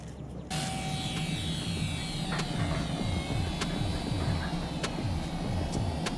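A small Mini182 Cessna trainer RC airplane flies with a continuous buzzing electric motor drone that holds steady for several seconds. Faint outdoor background sits beneath it, and no one speaks.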